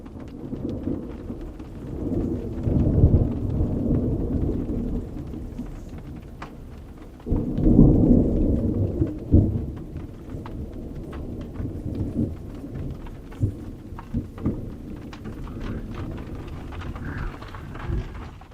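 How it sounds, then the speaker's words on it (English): A desert thunderstorm brings low rolling thunder that swells twice in long rumbles over a constant patter of rain on the ground, with sharp drips and crackles scattered throughout. "Now we're having rain in the desert. Big storm, but I think we're on the outskirts."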